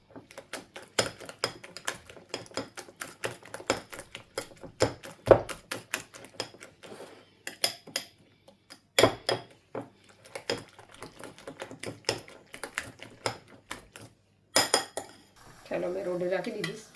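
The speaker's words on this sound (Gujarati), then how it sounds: "આવી રીતના મિક્સ કરી નાખવાનું બધું" A utensil beats omelette egg batter with a little milk in a bowl, producing rapid, irregular clinks and taps in bursts with short pauses, followed by a brief softer scraping stretch at the end.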